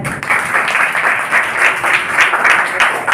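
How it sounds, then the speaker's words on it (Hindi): A class of children clapping together in a classroom as praise for a correct answer, a steady dense patter of many small hands, close and fairly loud, running without pause. "ताली बजाए"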